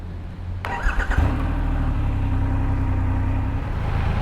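A Triumph Rocket 3 R motorcycle, the large-engined production bike, cranks over and fires up in Chiang Mai, settling into a loud, steady deep idle close by.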